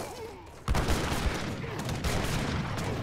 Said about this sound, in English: And the mortars are just going straight away